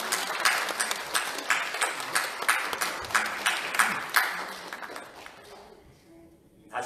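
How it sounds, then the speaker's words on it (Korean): Scattered clapping from a church congregation welcoming a family at a Sunday worship service, rhythmic bursts of hand claps that thin out and fade toward the end, with talk mixed in. "우리 박수로 한번 환영하십니까?"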